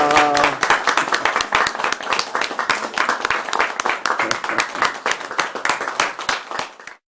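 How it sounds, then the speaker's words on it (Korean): An audience at a Korean reading gathering breaks into warm applause, crisp close clapping from a small crowd that runs strongly before tapering off and stopping, with a voice briefly at the start. "다시 한번 뜨거운 박수로 받았습니다."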